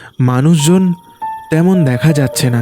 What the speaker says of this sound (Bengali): চারিদিকে শুধু ঝিঝির ডাক